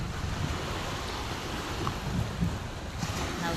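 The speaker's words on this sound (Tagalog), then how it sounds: "high tide na siya. Oh. Ini ang dagat oh." Sea waves at a beach resort at high tide wash in as a steady, broad roar of surf mixed with wind noise on the microphone, continuous and fairly loud throughout.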